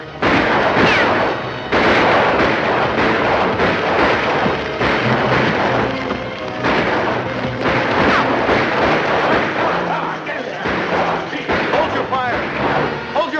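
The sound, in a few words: gunfire in a movie prison scene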